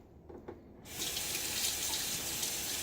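Tap water starts running into a sink to rinse after a wet shave. After a few faint clicks, a steady rushing stream turns on and keeps flowing at a close, even level.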